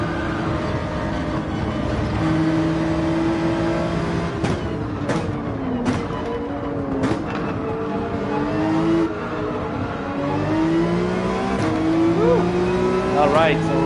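GT3 race car engines in Gran Turismo 7 at Trial Mountain whine and climb through gears as a tight pack races, with overlapping tonal drones, sharp shift cuts and a passing car, while a voice comments over them.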